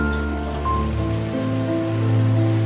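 Water boils in a pan with Pabda fish curry, a close, steady bubbling hiss over a low hum, with no speech.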